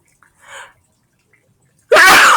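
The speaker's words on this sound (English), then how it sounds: "I'm going to sneeze." A single loud, close sneeze bursts out alone at the end, following a quiet, faint murmur of breath or voice.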